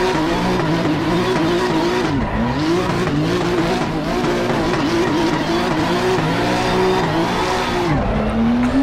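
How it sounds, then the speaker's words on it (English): A race car in Assetto Corsa Competizione does a second-gear burnout, its engine revving hard and steady while the tires squeal continuously, loud and close, with brief dips in pitch as the revs drop. "finish things off with a nice burnout."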